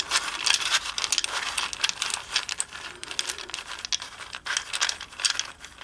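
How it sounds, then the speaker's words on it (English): Hebrew rune tiles shuffled in a bowl make a dense, continuous clatter of small clicks and rattles, close and busy throughout, with no talk. "I'm going to shuffle a little bit in this bowl."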